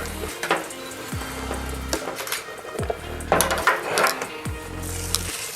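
Steak sizzles on a Blackstone griddle, a constant close frying hiss broken by occasional light scrapes and clatters of cooking tools.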